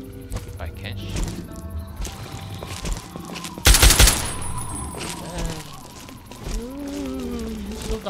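Gunfire in the video game Fallout 3, a brief loud burst of shots around the middle over game sounds, with someone talking throughout.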